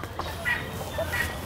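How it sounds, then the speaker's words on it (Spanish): Roosters and other fowl on an animal refuge farm give short, fairly close calls in the open air, with faint background noise. "acá también hay más gallos"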